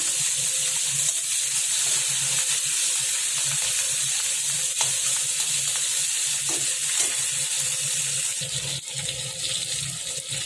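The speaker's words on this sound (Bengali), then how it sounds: "আর আমি ইলিশ মাছের মাথাটা ভেজে নেব। আর শুকনো লঙ্কা দেবো, আর দেবো কাঁচা পেঁয়াজ" A hilsa fish head fries in oil with dried chilli and onion, giving a continuous close sizzle and crackle for about ten seconds, with a few faint utensil taps near the end and no voices.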